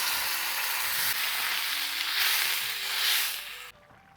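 Water poured into a pan of frying banana flower curry sets off a loud, hissing sizzle that swells and wavers for a few seconds, then cuts off sharply.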